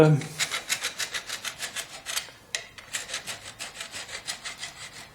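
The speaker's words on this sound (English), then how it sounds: "it's going to be a question of filing away gently." A 19th-century steel key filed gently by hand, giving even, rhythmic rasping strokes about four per second, close and clear, with a short break partway through.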